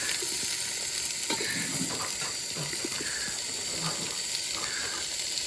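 Tomatoes and onions with cinnamon and cloves sautéing in a pan for a village-style veg biryani, a soft continuous sizzle with scattered light scraping and stirring clicks.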